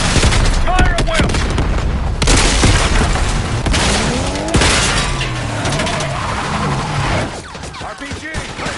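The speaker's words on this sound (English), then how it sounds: "Fire at will!" Gunfire erupts in the Call of Duty Black Ops 6 video game: heavy booms, rapid bursts and sharp shots pile up continuously, loud and close, with shouted voices mixed in.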